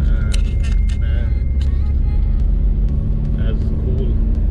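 A car driving along a narrow mountain road to Dalhousie in Himachal Pradesh, a constant low engine and road rumble from inside the vehicle, with voices talking over it.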